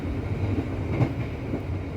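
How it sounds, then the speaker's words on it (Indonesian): Argo Merbabu passenger train running on rails, heard from inside as a steady low rumble with faint wheel clatter throughout, no talking. "Menikmati sisa-sisa perjalanan dari kereta api Argo Merbabu ini ya kawan."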